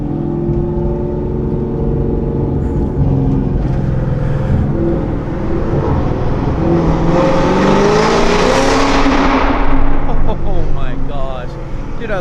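A boosted Camaro engine roaring loudly as it accelerates, the pitch climbing steadily into a harsh, near, aggressive howl, with a person talking over the start.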